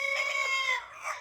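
Half-grown Cornish cross chickens and baby turkeys clucking on a family homestead, a close, continuous run of bright warbling calls that breaks off briefly, then resumes.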